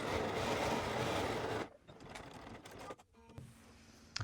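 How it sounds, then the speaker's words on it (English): A sewing machine stitches a 3/8-inch seam on a hoodie, running loud and steady for about a second and a half before cutting off, followed by quieter fabric handling and faint clicks. "we are sewing at 3/8 of an inch seam allowance. So there is that seam. We're going to do the same on the other side."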